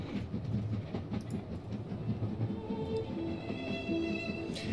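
A train carriage in the video game If On A Winter's Night rumbles along its rails with a steady, low clickety-clack rhythm, moderately quiet and continuous, with faint tonal hums over the rolling.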